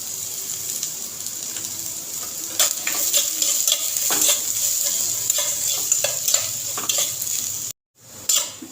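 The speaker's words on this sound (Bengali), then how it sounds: "এবার অল্প তেলে প্রথমে ভেজে নিচ্ছি আলুগুলো" Potatoes fry in a little oil in a pan while chow mein is made in a village kitchen. A steady, close sizzle runs throughout, broken by scraping stirs and clinks, then cuts out briefly near the end.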